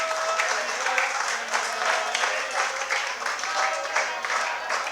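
An audience at a Jain sermon and abhishek gathering in Kunthalgiri claps in rhythmic, repeated bursts, moderately loud and a little distant, with a voice speaking over the clapping.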